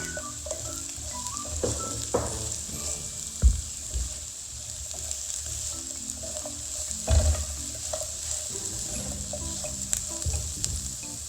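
Fried squash and purple yam gnocchi go back into a pan, a soft steady sizzle under occasional stirring scrapes and a couple of heavier clunks of pan or utensil, with no talk.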